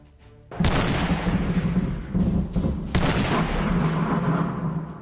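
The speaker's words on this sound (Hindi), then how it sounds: "रात भर धमाकों की आवाज आती रही और लोग अपने घरों में दुबके रहे।" Heavy booms of artillery fire and explosions in Donetsk, Ukraine, at night, several sharp blasts followed by sustained rumbling, loud with no talking.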